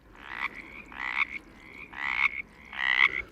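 Four evenly spaced frog calls, each a short rising trill, close and clear against a quiet background, resembling a sped-up mountain chorus frog.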